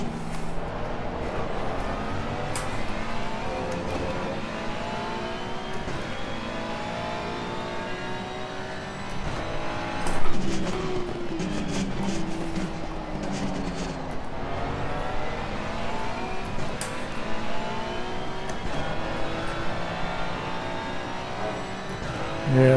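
A McLaren race car engine in a racing game at the Hungaroring circuit, revving up and down through gear changes, with other cars droning nearby and a brief louder burst midway.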